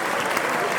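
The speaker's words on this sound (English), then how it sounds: "If you don't have the stream audio, then you'll have missed the applause." Applause effect played over a live hobby stream, a short steady burst of clapping that is loud and dense throughout with no gaps.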